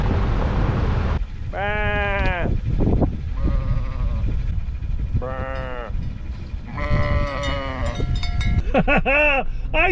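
A voice imitates sheep bleating several times, wavering nasal baa calls with short gaps, close up over a steady vehicle rumble while driving in Utah.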